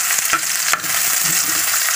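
Mackerel sizzling and crackling in a frying pan as it is stirred, with a bright continuous hiss and a couple of soft utensil scrapes, close and without speech.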